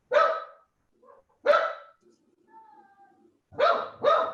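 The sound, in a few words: dogs barking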